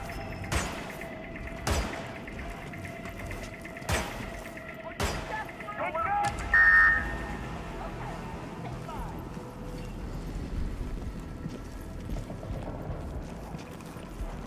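Gunfire in the Hitman video game: a handful of sharp, evenly spaced shots in the first few seconds, followed by a low rumbling background, fairly faint throughout.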